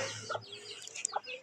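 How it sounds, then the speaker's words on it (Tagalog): Chickens scratching at the ground around a backyard garden, with a few short, close clucks and soft chirps spread over a brief stretch. "nangangalaykay na yung manok natin"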